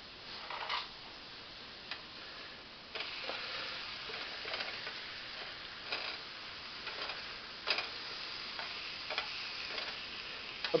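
Round steak frying in a pan, a steady low sizzle with intermittent ticks and pops, faint and even throughout, with no voices.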